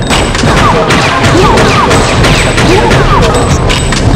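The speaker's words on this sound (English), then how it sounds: "And I just equipped some machine guns." Machine gun fire in the video game Fear Effect: dense, loud bursts of rapid shots roll on continuously, layered with crashes and game effects.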